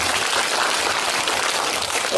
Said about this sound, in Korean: 학장님께 박수 한번 부탁드리겠습니다